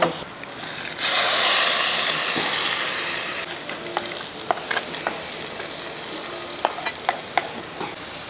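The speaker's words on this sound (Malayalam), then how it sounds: "ഇനി നമുക്ക് കടുക് വറുത്തൊക്കെ ഇതിൻ്റെ അകത്ത് ഇട്ട് കൊടുക്കുക" Fried mustard seed tempering hits a pot of Kerala tuber curry with a loud, close sizzle that swells at once and slowly fades, followed by scattered clinks and scrapes of stirring.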